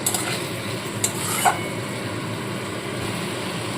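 Spice paste with turmeric and sugar is stirred and fried in a pan with a splash of water, giving a low steady sizzle with a couple of brief utensil scrapes early on.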